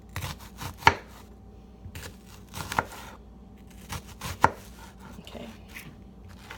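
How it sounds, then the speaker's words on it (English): Kitchen knife mincing an onion with its root left intact: crisp, close chops falling in an irregular rhythm, some louder strikes standing out, with one brief spoken word. "you can just cut down this way. And there you have it, minced onion."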